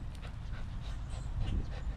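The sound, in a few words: pit bull dog whimpering and panting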